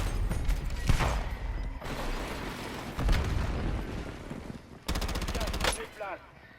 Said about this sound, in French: Je me fais tirer